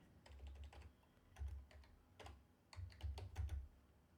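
Quiet clicking on a computer keyboard as a command is typed, with irregular bursts of keystrokes and brief pauses, close but faint against a low hum.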